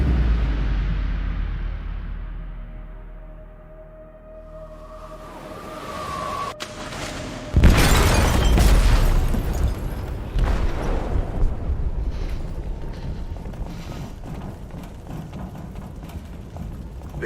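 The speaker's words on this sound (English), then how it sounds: "They detonated an explosive in the hold." An explosive detonates in a ship's hold in Detroit: Become Human, a loud sudden blast after a quiet, rising build-up, followed by a long rumbling roar and churning mechanical clatter, with no talking.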